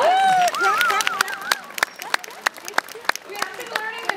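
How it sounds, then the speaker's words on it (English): Aquarium audience applauding for dolphins, scattered individual claps and crowd murmur following whistling, squeaky vocal sounds at the start, fairly sparse and uneven rather than a full ovation. "Let's give these dolphins a round of applause."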